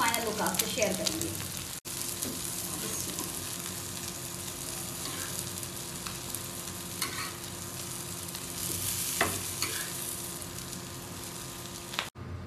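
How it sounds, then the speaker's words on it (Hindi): Shami kababs made without daal sizzle steadily in a frying pan, a continuous broadband crackle across the whole stretch with a couple of brief dips, no talking over it. "ये देखिए जब दोनों साइडों से फ्राई हो जाएंगे"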